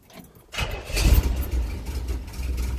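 A 1967 Chevrolet C10 pickup's engine, fitted with a new camshaft, catches and settles into a low, slightly uneven idle close by, steady rumble after a quiet opening half-second.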